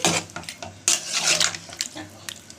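Metal spoon scraping and clanking in a cooking pot of chicken kasha with garam masala, followed by a lid set over it; irregular close clatters and scrapes.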